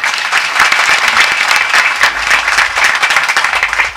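Sustained audience applause for a group of girls at a Hindu devotional kirtan gathering, a dense, steady wash of many hands clapping loudly throughout with no voices over it.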